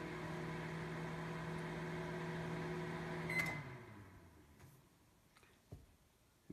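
A MasterChef stainless steel microwave oven hums steadily and quietly, then stops abruptly midway, followed by faint clicks and small handling noises in a quiet room.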